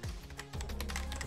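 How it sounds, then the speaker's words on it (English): Typing on a computer keyboard into a PowerShell window, a quick run of close, light key clicks following a short low rumble, with no talking. "Now type the following command"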